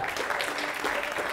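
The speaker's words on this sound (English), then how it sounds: "Give me a round of applause as he comes up onto the stage." A live stage-show audience applauds in a dense, steady burst of clapping, fairly close and without a break.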